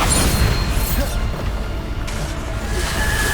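Bombarda spell explosions in Hogwarts Legacy, a dense, loud booming rumble of blasts and whooshes from a busy spell-casting fight, continuous and close.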